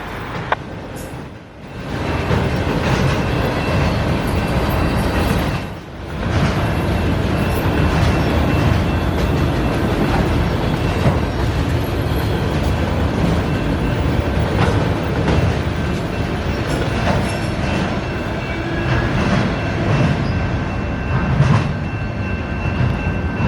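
CSX freight train M203 rolls past on main 2 near milepost 116.7, a steady, close rumble of wheels and cars that holds for over twenty seconds, with two brief dips as gaps or joints go by.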